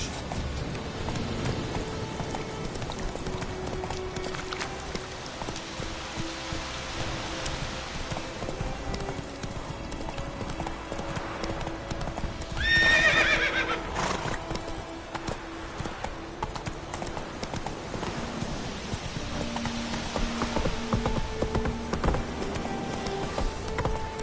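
Hooves of the horse Roach clip-clop in a steady galloping rhythm in The Witcher 3, with a brief whinny bursting out midway over a low ambient game backdrop.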